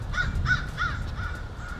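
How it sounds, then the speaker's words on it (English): A crow calls close by with three quick, harsh caws, then fainter drawn-out calls, over a steady low background rumble. "I'm going to get that crow."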